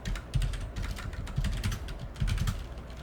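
Steady typing on a computer keyboard, a close run of clicky keystrokes in quick bursts with short pauses, no voices over it.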